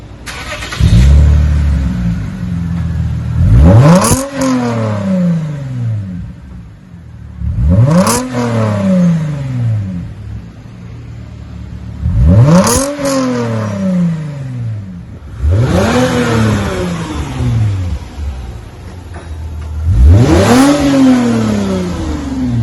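A loud, raspy exhaust on a 2006 Lexus IS250 with Magnaflow mufflers and the center resonator replaced by a straight pipe revs up and drops back five times in a steady rhythm, each rev rising sharply then falling, with no talking.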